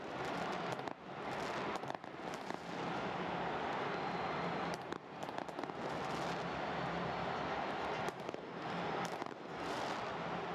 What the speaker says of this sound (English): The fireworks being set off in the stadium.